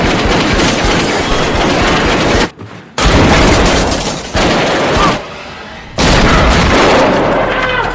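Dense, loud gunfire in a film action scene, rapid bursts blending into a continuous roar with abrupt cuts to near silence between sections.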